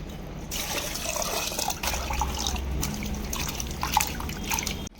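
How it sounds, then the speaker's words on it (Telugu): Water is poured over mutton pieces to wash them, making close splashing and trickling sounds with some drips, along with occasional sloshing in a vessel. "నీళ్ళు పోసి కడిగేసుకుందాం"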